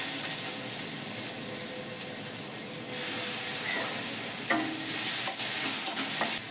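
Onions sizzle in a pan with a steady hiss that grows louder partway through, joined by a few scraping stirs near the end; no one speaks.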